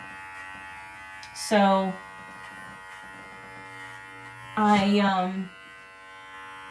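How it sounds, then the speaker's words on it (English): Electric grooming clippers used on a dog buzz in two short bursts with a pause between, close and loud, while a person speaks briefly between them. "wanted him to get used to the sound of the clippers"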